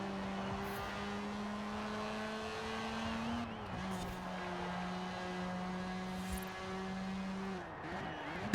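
A Mazda MX-5 engine races in Forza Horizon 4, holding a steady droning tone with gear shifts and small pitch dips, passing other cars at a night race.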